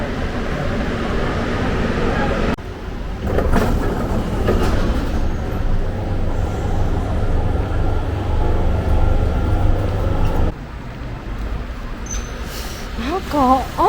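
A Marseille metro train rumbling and rattling along the track, loud and close, with a change in noise as doors seem to open; voices speak over it.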